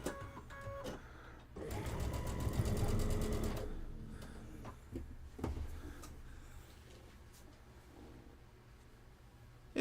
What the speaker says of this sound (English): It looks like I'm going to get the half that I have cut sewn with you guys.